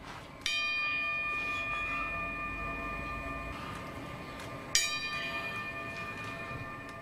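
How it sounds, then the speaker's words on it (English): Church bells ring in a 9/11 remembrance tribute held by firefighters outside a fire station, marking the moment the South Tower fell. Two distinct bell strikes sound, each followed by a long ringing sustain with no talking. "The bells rang at 6:59 a.m. Pacific time, the same time the South Tower collapsed at the World Trade Center."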